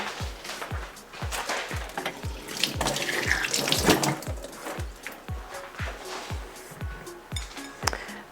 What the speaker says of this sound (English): I'm gonna rinse these off real quick.